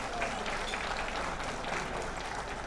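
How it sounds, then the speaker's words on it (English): An audience at a charity trust's 25th anniversary celebration applauds after a performance, a steady wash of clapping from many hands heard at moderate distance. "Please give her a huge round of applause."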